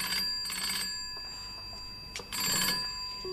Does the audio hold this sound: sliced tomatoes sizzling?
no